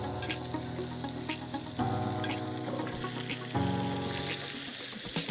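Butter sizzles in a hot pan beside blackened snook, a steady crackling fry with brief stir scrapes, with background music playing throughout and no voices.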